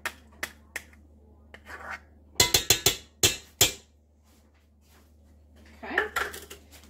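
A utensil scrapes and knocks against a cheesecake mixing bowl in a few sharp clustered clinks and scrapes, close up, with a softer rustle near the end and no talking.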